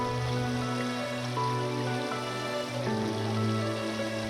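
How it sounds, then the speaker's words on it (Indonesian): The river stream flowing from Lambah village in Bukittinggi through Agam makes a steady, dense rush of moving water with no pauses, mixed with a sustained tonal background throughout. "Mengalir dari Desa Lambah di Bukit Tinggi, aliran sungai ini berujung di Desa Sitingkai, Batang Palupu, Kabupaten Agam."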